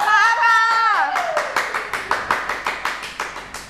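A small group claps for a winner in a rhythmic, evenly spaced run of sharp hand claps, close and fairly loud. Excited voices call out over the start before the clapping takes over.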